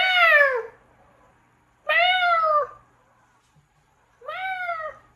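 A cat meows three times at a spaced, unhurried pace. Each meow is clear, close and drawn out, and quiet pauses fall between them.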